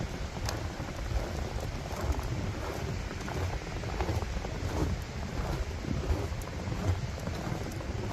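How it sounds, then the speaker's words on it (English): Wind blows through snowy hemlock woods at Salt Springs State Park in Montrose, Pennsylvania, a steady loud gusting roar with rustling and buffeting against the microphone throughout. "Wind's kicking up."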